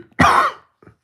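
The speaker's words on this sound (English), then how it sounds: "sorry about the cough" A single harsh cough bursts out close up, followed a moment later by a faint short exhale, with quiet otherwise.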